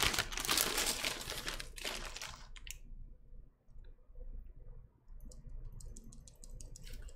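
Typing on 67 gram Zilios mechanical keyboard switches: a quick flurry of bright clacks up close, then a quieter pause and a second, lighter run of clicks toward the end.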